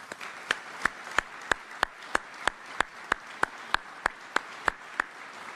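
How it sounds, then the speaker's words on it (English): An audience at a Medal of Honor Hall of Heroes induction ceremony claps steadily but faintly, individual sharp claps standing out in a regular rhythm, with no talking over it. "let's give them all a round of applause, please."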